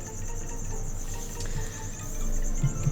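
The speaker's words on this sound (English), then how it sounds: "there's these crickets chirping constantly in the background" Live feeder crickets kept indoors chirp in a constant, high, steady trill, close and even, with no talking.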